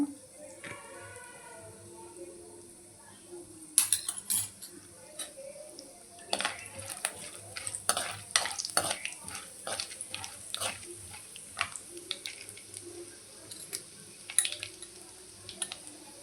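Mustard-like tempering seeds crackle and pop in hot oil while being stirred in a pan for a spinach and onion dish, with a scatter of sharp clicks and utensil scrapes over a steady low sizzle.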